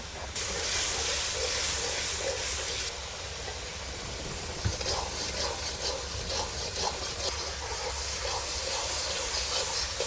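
Koi and koral fish with chili, turmeric and salt sautéing in a pan while rain falls outside, giving a steady loud hiss and sizzle with a faint scrape partway through.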